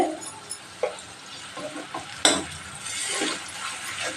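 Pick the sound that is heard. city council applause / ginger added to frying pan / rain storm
ginger added to frying pan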